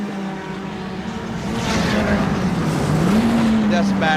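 Racing car from the SL GT up-to-3500cc class at Katukurunda circuit, engine droning steadily with a pitch that sags then climbs as it loses power from a suspected turbo fault, loud and close with commentary talking over it.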